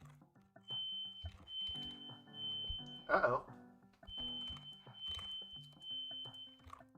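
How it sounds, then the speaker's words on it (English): A distant fire alarm beeps from somewhere else in the building, a thin steady high tone that sounds twice and sits faintly behind nearby talk and other household noise. "it seems like someone else's fire alarm"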